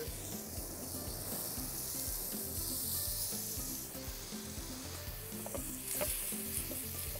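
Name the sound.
tuna steaks pan frying and sizzling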